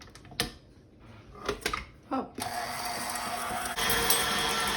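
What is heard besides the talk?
kitchen blender running while mixing cookie dough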